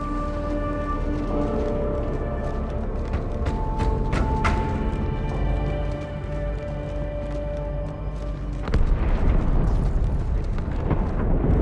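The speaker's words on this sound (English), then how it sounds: "That explosion came from inside the Athens" Deep rumbling blast inside the Athens in Halo: The Master Chief Collection on Xbox One, a dense sustained roar under droning game music that swells sharply again near the end, loud and close.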